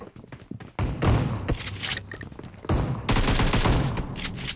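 Bursts of automatic gunfire in a PUBG Mobile match, loud rapid fusillades in two main clusters with thuds between, no talk over them.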